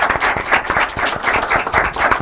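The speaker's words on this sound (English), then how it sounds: "we can clap to that" An audience at a collegiate debate competition claps steadily, a dense round of many hands applauding without pause throughout.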